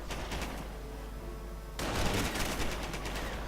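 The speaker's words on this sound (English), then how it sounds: "lots of firepower being directed against the Pioneers" Gunfire in a World War II strategy video game, dense overlapping rifle and machine-gun bursts that swell louder midway, rapid crackling volleys without talk.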